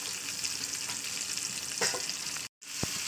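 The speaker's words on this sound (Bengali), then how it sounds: "এইভাবে আস্তে আস্তে আমি করলা মতো ভাজবো প্রত্যেকটা জায়গায় তেল যাতে যায়" Bitter gourd slices fry in hot oil with a steady, close sizzle and crackle that runs throughout, briefly cut by a moment of silence, followed by a short clink.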